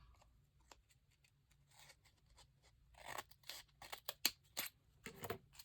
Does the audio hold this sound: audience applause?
no